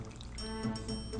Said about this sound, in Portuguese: Primeiro, colocamos a água na batata comum.